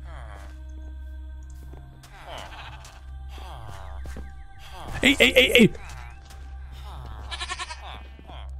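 Goat bleats in the Minecraft video game, a loud wavering cry around the middle with a shorter bleat following, over steady game background hum, with someone speaking before and between the calls.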